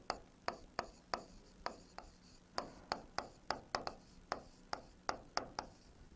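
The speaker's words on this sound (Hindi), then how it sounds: "इसको थोड़ा सही से लिखते हैं।" Chalk or marker tapping and stroking on a board during a biology lecture, a steady series of sharp, crisp ticks spaced roughly every third of a second, fairly quiet with no talking.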